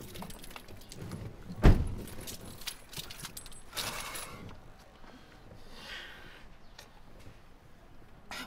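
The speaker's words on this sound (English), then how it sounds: "The car doesn't want to start." Keys jangle near a car that won't start, with a sharp metallic clink early on and a burst of mechanical noise partway through, then a quieter stretch of low background noise.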